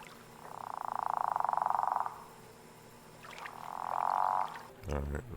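A frog in the video game Season: A Letter to the Future croaks loudly in two long, buzzing trills separated by a brief pause, ending in a sharp knock.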